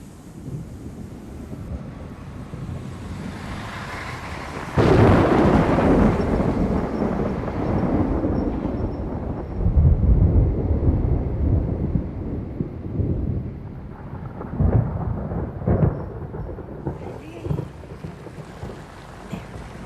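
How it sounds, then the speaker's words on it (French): An approaching thunderstorm with loud, sustained rolling thunder that swells suddenly and rumbles on in waves, under gusting wind buffeting the microphone, with no voices. "La tempête se rapproche."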